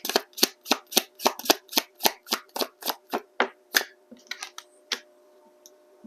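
Earth and Sky Oracle cards shuffled by hand: about a dozen crisp, evenly spaced riffling snaps in quick succession, close and clear, then a few looser scattered card sounds trailing off.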